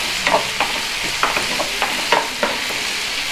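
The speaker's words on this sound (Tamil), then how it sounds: "வெங்காயத்தோடு இந்த இஞ்சி பூண்டு பேஸ்ட்டை நல்லா கலந்து விட்டுருங்க." Onions with ginger garlic paste stir-fry in a hot pan under a steady sizzle, a spoon scraping and tapping the pan in quick, irregular strokes, close and fairly loud.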